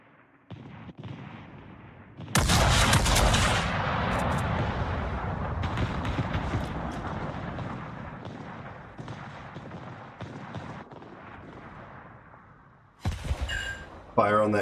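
Heavy naval guns boom in a warship battle game, with a sudden loud blast followed by a long rumbling roar that slowly fades, then another sharp burst near the end.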